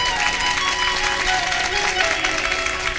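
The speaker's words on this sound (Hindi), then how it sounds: "तुम्हारी तालियां मुझे कई दिन तक याद आएंगी" Audience applause at a devotional kirtan gathering in Nagla, Mainpuri: dense, steady clapping fills the whole stretch at close range, with a faint crowd murmur and some voices underneath.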